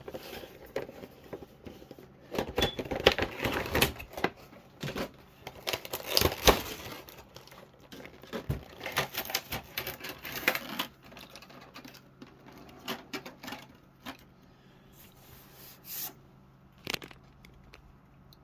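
Plastic packaging of an S.H.Figuarts Hulk action figure being opened: irregular bursts of crinkling, tapping and clicking plastic and cardboard, close and fairly loud, easing into quieter handling near the end.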